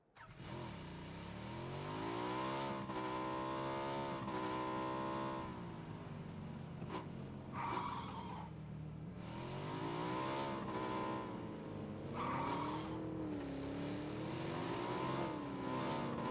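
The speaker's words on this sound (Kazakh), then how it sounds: "Так, я мотоцикл, наверное, возьму." In a video game, a motorcycle engine revs, its pitch climbing and dipping in repeated sweeps, with brief breaks between throttle bursts and no talking.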